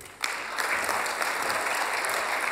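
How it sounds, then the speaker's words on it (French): An audience at a startup pitch contest final breaks into applause after a sharp onset, and the clapping stays dense and steady throughout. "On peut l'applaudir."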